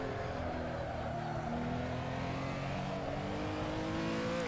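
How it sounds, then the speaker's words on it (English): Renault Sport R.S. 01 race car engine at Spa-Francorchamps, a steady, fairly faint high-pitched drone with rising and falling harmonics as the revs shift, heard alone without talk. "Listen to that engine."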